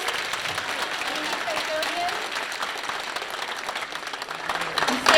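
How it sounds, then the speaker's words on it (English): Audience at a school fourth grade concert applauds the custodians, a steady wash of clapping through the whole span with some voices mixed in, swelling slightly near the end. "If we can give a big round of applause to them."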